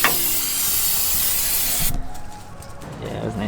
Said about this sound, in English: I'm gonna grab a little bit of this and just spray the living shit out of it